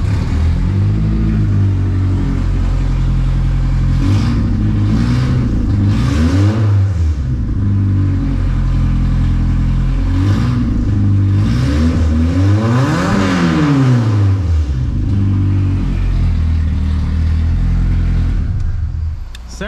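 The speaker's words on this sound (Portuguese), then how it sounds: "Deixa eu ver que vai dar partida, ó." A Volkswagen Voyage car engine is started and then held at a loud, steady rumble near the microphone, with repeated revs rising and falling throughout.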